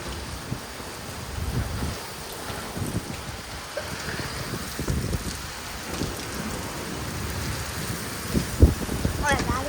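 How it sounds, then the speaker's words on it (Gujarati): Heavy rain lashes down in Rajkot with gusting wind and low thunder rumbles, a steady wash of downpour under occasional deeper booms, and a voice speaks briefly near the end. "પવન અને વીજળી બે બધું ભેગું."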